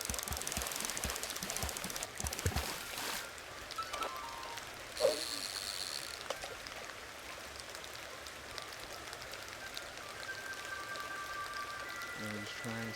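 Steady rain falling in the casual fishing game Yonder, a constant soft hiss running throughout with scattered clicks and a brief louder splash near the middle.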